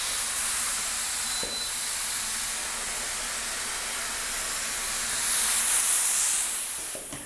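Activator sprayed onto hydrographic film in a steady hissing spray that carries on for several seconds and swells slightly toward the end, close and alone.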